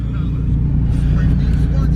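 A 2014 Dodge Viper GTS, a repairable salvage car, idles with a steady deep low rumble close by, continuous throughout.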